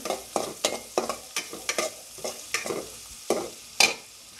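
Onions and green chillies fry in oil with a rhythmic series of quick spatula stirs over a soft sizzle, about two strokes a second, close and fairly quiet, with no speech.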